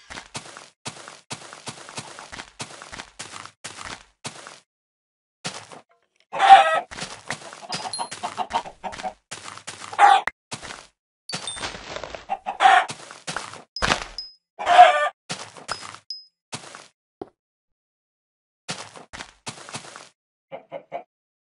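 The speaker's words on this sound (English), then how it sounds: "Okay, more chickens." Minecraft chickens cluck in repeated short bursts, with a few louder squawks and a rooster-like call, separated by brief quiet gaps.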